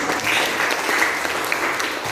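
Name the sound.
audience applause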